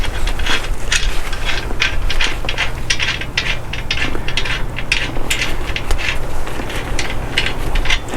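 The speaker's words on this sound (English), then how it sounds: "I'm just going to use a crescent wrench because I don't have an 18mm box wrench." Crescent wrench working an 18mm axle nut on a Lectric e-bike, giving a steady run of quick metallic ratchet-like clicks and scrapes, close and fairly loud, with no talk.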